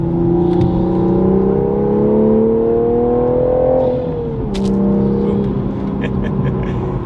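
A manual Toyota Supra fitted with a high-flow catted downpipe accelerates hard in sport mode, its engine note climbing steadily through the revs, easing briefly on a shift, then pulling again, loud and close from inside the car.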